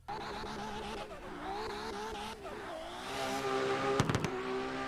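A racing car engine in a video game, a Nissan S13, revs and drifts with tire squeal, then a quick burst of loud, sharp exhaust pops crackles near the end.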